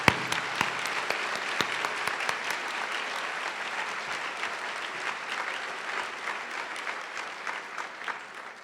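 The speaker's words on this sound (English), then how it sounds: "Can we give one final round of applause to our speakers for their inspiring words and their stories" Sustained applause from a luncheon audience at a women's foundation event, dense steady clapping with a few sharper nearby claps, slowly thinning toward the end, no talk.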